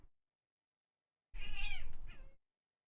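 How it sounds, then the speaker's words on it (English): A kitten gives a single drawn-out meow, close and fairly loud, sliding in pitch with a short second tail, alone against silence. "Hey, kitten."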